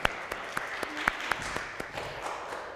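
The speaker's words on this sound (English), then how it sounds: "And so we're sort of clapping for our online church community" A church congregation claps sparsely, a handful of sharp distinct claps at a moderate distance over quiet room tone, fairly faint overall.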